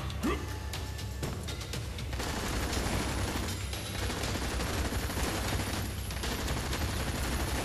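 PA-11 rifle gunfire in the video game Earth Defense Force 5, a steady stream of rapid automatic shots running throughout at a constant, fairly loud level amid game noise.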